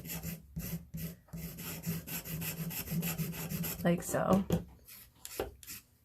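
A scissors edge scrapes an ink pad to shed pastel powder onto a foam block, giving a dry, raspy scratching that repeats in short strokes, close up, alongside brief talk.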